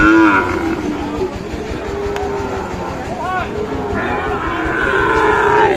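Sahiwal calves lowing at a busy cattle market, several drawn-out moos rising and falling over crowd chatter and background voices, fairly loud and close.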